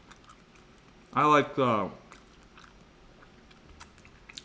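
Crunchy Wingstop chicken wings bitten and chewed close up: two loud crisp crunching bursts in quick succession, then quiet with faint rustles and a brief voice.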